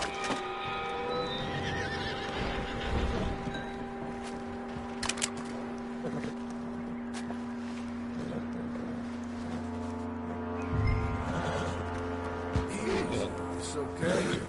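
Horse whinnying and hooves in the Red Dead Redemption 2 video game, with a neigh over steady game ambience and low rumbling, and occasional hoof sounds nearby.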